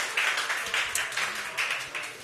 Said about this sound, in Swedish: Så, ja, applåd, bra Britta, ja, härligt